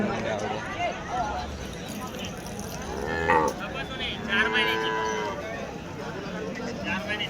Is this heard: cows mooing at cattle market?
yes